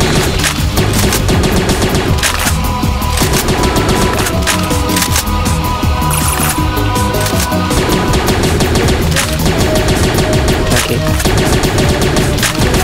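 Constant rapid shooting at zombies in a Plants vs. Zombies game, loud dense volleys of pops and cracks layered with music and effects, continuing without a break.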